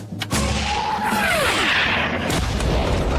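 A loud booming explosion from a TV comedy bursts after a brief thump, followed by a long, roaring rumble with a descending whistle and debris, fading slowly.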